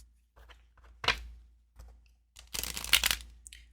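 An Edgar Allan Poe tarot deck, its bendy cards riffled in two close, brisk bursts of crisp flutter with short pauses around them.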